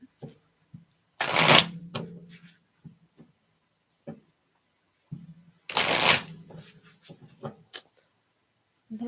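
Tarot cards shuffled in two brisk riffling bursts, each followed by soft taps and slides of the deck, close and fairly quiet with no talking.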